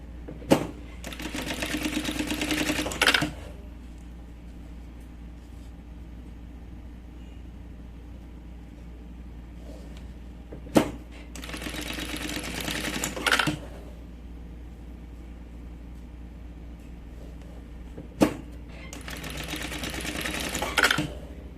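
A sewing machine stitches along a marked line on a fabric pencil case, running in three bursts of a few seconds each, separated by quieter pauses with faint handling clicks.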